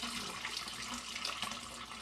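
Water is drained from work clothes soaking in a tub after heavy house-renovation work, a faint, steady running trickle and splash heard alone.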